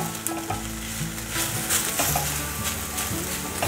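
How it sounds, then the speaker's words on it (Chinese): Shiitake mushrooms and starchy potato pieces stir-fry in a wok with a loud, continuous sizzle and the rustling scrape of fast tossing, heard close with no voices. "快速的翻炒，把香菇炒香。"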